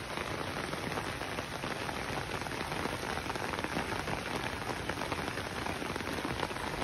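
Heavy rain pours steadily and loudly over rice fields, a dense unbroken hiss of drops hitting surfaces with no voices.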